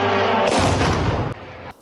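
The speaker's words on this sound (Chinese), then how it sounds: "无人机引擎声划破深夜的宁静，没过多久就传出爆炸声。" A night explosion from a Russian drone attack on Kyiv, one loud, sharp boom followed by a brief rumbling decay.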